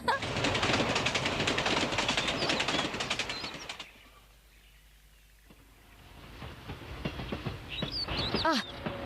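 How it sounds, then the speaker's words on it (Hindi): A cartoon train arriving, with a loud rumbling rush of wheels and carriages that drops away midway, then returns more quietly alongside bird chirps and a short high whistle-like call. "ट्रेन आ गई।"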